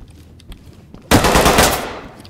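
Sustained burst of automatic gunfire in the tactical shooter Ready Or Not, loud and close, erupting after a quiet stretch and rattling continuously for over a second before tapering off.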